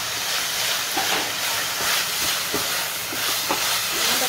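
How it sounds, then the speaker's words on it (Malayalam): Beetroot sizzles and hisses in a hot pan, a steady loud fizzing broken by scattered small pops and crackles. "ഇപ്പൊ നമുക്ക് ബീട്രൂട്ട് ഇട്ട് നന്നായിട്ട് ഇളക്കി കൊടുക്കാം"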